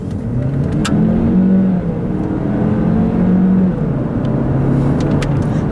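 A 2016 Chevrolet Cruze LT's small turbocharged engine revs up steadily under acceleration, a droning hum rising in pitch and easing between gear shifts, heard from inside the car.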